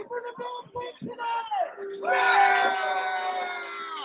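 Rip cheers loudly in the background of a live Ravens vs Bills pregame show, a sustained high yell rising over brief voices and lasting to the end.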